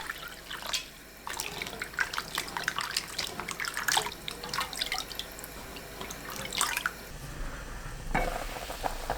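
Tteokguk broth boiling in a pot on the stove gives a dense, continuous bubbling and watery hiss. Scattered louder pops and clinks come through, close and steady, with no voices.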